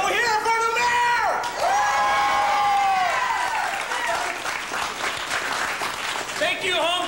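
A large crowd applauds, cheers and whoops loudly for a mayor at a Home Depot opening in Hammond, Indiana, steady dense clapping with shouted voices rising over it throughout.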